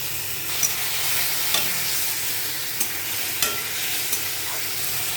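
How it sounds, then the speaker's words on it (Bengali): Chopped onion and tomato frying in a pan give a steady, close sizzle, with a few sharp scrapes and clicks of stirring scattered through it and no talk. "পেঁয়াজটা একটু ব্রাউন হয়ে আসলে দেবো টমেটো কুচি"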